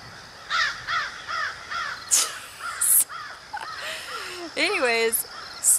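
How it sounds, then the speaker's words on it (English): Crows caw loudly outdoors in a string of repeated harsh calls, some overlapping, close and prominent, with a few sharp clicks and bursts mixed in. "these birds are talking as much as I am right now"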